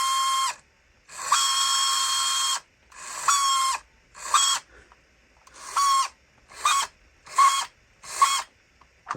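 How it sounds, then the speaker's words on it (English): A vintage RC truck's gears whine and grind in repeated bursts, one long run then shorter rapid pulses with brief silences between, sounding as if the pinion gear were stripping. "It sounds like it's stripping the gears"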